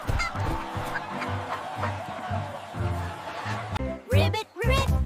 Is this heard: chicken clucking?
yes